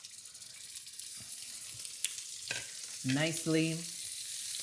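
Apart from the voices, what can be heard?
scallops searing in oil in a pan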